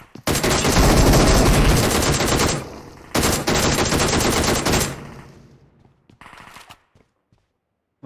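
Toy gun firing loud, rapid bursts of electronic gunfire sounds close by, a long burst, a short pause, another burst, then fading sputters as it runs out.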